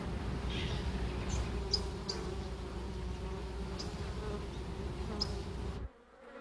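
Honeybees buzzing inside a hive, a dense steady drone of many wings with a few sharper individual buzzes passing close, continuous until it cuts away near the end.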